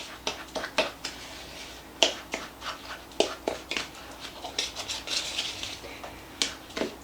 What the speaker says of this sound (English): So you really want to get that butter mixed in there. Use the back of a fork.